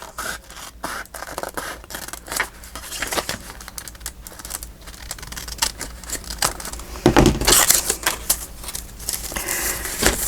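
Paper being cut for an envelope pocket, with close, repeated scratchy snips and scraping strokes in an uneven rhythm, louder near the middle, and no talk.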